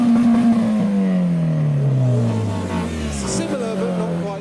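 A modified Mazda MX-5 engine revs loudly and winds down, its pitch falling steadily over several seconds, with a voice talking underneath and more engine noise in the background in a traffic jam in Japan.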